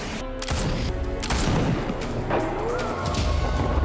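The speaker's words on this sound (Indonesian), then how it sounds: "Along menembakkan pistol ke atas di keramaian dan membuat orang-orang panik" Pistol shots fired into the air amid a panicking crowd in a film scene, loud booming reports and crashes layered over tense music and commotion.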